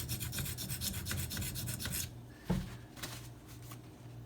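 Maxamet steel knife being sharpened on Venev diamond stones, a steady close rasping scrape of rapid repeated strokes that stops briefly, then a knock and a few slower, lighter passes.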